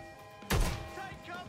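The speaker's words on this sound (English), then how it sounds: "Put in some explosions." A loud, sudden explosion in the video game Watch Dogs bursts out alone, then a rumbling tail fades over the next second above a steady background of game music.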